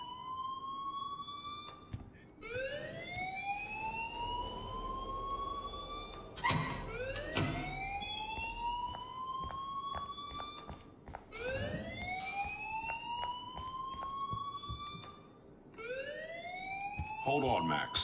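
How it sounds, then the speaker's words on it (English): Alarm in the video game Life is Strange: a loud electronic siren repeatedly sweeping upward in pitch, cycling about every two to three seconds with brief breaks, under quiet background talk. "please turn off that alarm since that's your job"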